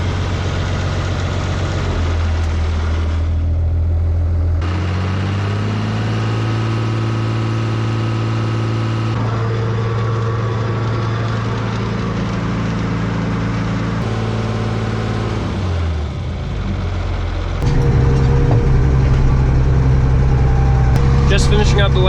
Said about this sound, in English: I'm gonna go up here and run the manure spreader for a bit